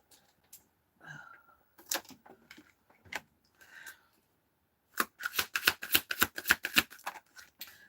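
Tarot-style cards are handled and shuffled nearby: scattered soft flicks and taps at first, then a rapid run of crisp riffling snaps in the second half, with no talk.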